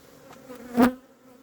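A brief buzzing of a honey bee swelling close by and fading at a hive, with faint insect hum before and after.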